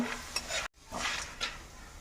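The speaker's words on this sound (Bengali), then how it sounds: "এখন বড়িটাকেও তেলের সাথে একটু ভেজে নেব" Broken dried lentil dumplings (bori) fry in oil in a pan, with soft sizzling and a few scraping stirs, briefly interrupted by a short silent gap; no voices.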